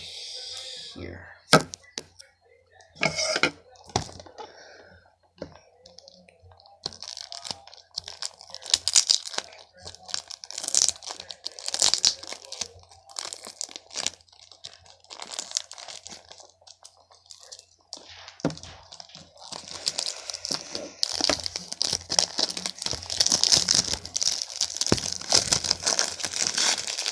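Paper wrapping being torn and crinkled off a Battlefield 1 Revolution Xbox One game box, a run of close, uneven rips and crackles with bursts of handling noise, growing denser toward the end.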